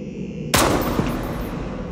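Gunfire at practice: a sharp, loud shot bursts in abruptly, followed half a second later by a second report, with a lingering echoing tail.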